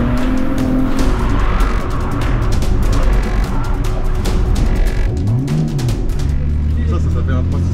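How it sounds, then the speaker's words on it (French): A drift car's tires squealing as they grip and slide on a dry race track, loud and close over a roaring engine, with a falling engine sweep near the end and voices talking over it. "Là le bruit que ça fait c'est parce que les pneus ils raccrochent sur du sec"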